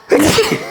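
A single sharp, explosive sneeze bursts out close to the microphone, then trails off into a breathy rush.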